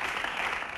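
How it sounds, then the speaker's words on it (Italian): Faint, steady clapping from an audience at an Italian public event about the fight against the 'ndrangheta, a soft continuous patter heard from a distance with no talk over it. "facciamoglielo un applauso a questi genitori"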